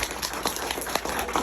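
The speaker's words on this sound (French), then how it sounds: "Une bonne main d'applaudissements." A short burst of audience applause for a young author after her interview, brisk, close-sounding clapping lasting barely over a second.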